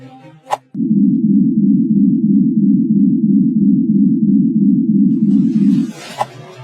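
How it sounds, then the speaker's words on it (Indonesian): A steady low-frequency hum or drone from the Caribbean Sea, a whistle pitched several octaves below A-flat, holds for about five seconds, loud and unbroken, bracketed by brief clicks and a burst of hiss at the end. "Laut Karibia memperdengarkan siulan pada nada as pada beberapa oktav di bawah."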